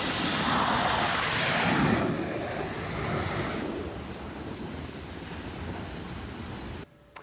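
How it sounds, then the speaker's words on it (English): Jet aircraft launching from the flight deck of the aircraft carrier George H.W. Bush, a loud roaring rush that fades after a couple of seconds into a lower, distant rumble before cutting off. "Too noisy between the top deck launching planes and landing them till 2 a.m."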